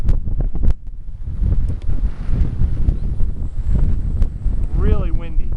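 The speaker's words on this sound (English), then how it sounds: "Really windy too. Ridiculous windy." Strong gusting wind roars and buffets the microphone at an outdoor radio-controlled helicopter flying field, loud and continuous, with a voice speaking briefly under it.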